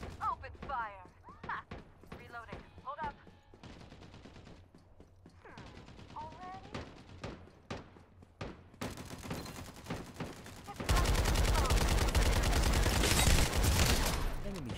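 Rapid video game gunfire bursts and mechanical reload clicks over a steady background bed, with game voices speaking between volleys, ending in a louder, dense stretch of continuous shooting.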